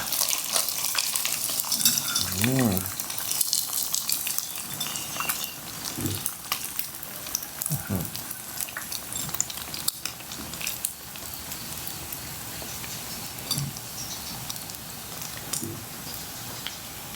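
Thin slices of marinated pork hip meat deep frying in hot oil, a steady crackling sizzle throughout with occasional louder bursts and faint clatter from turning the slices.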